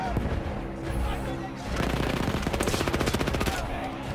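A submachine gun fires in a video game, first in steady bursts and then in a dense, loud rattle of rapid shots, with game noise all around.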